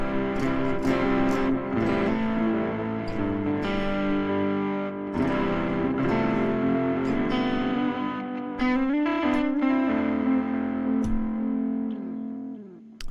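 A guitar plays sustained, effects-laden chords with a washy reverb tail from a Logic Pro plugin, some notes slightly distorted, ringing out alone before fading at the end.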